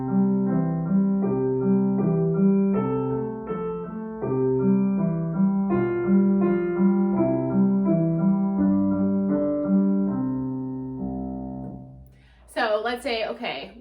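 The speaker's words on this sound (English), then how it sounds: "so I'm going to add this Alberti bass, and it will sound like this." A piano plays Twinkle Twinkle with a steadily rolling Alberti bass in the left hand, a clear, even melody over the repeating broken-chord pattern, fading near the end before a voice begins speaking.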